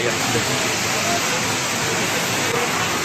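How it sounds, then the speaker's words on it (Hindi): Heavy rain pours steadily at Omkareshwar, India, in a dense, continuous hiss, loud and unbroken throughout. "बारिश बहुत तेज आ रही है"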